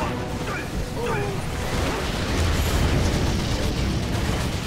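Rockets explode on Peacekeeper infantry in Red Alert 3 with a dense, loud crackling roar of blasts and debris, steady throughout, while a voice talks over it.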